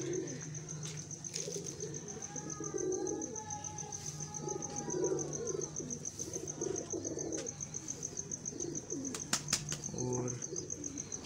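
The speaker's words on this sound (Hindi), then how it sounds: "हमारे पास गोल्डन कबूतर है।" A golden pigeon coos in soft repeated calls, with a few wing flutters and chirps nearby, over a steady high electrical whine and faint background talk.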